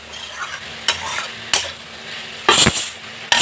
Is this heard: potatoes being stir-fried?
yes